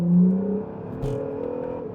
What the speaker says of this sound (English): You can hear the exhaust. Drop a gear, fire away.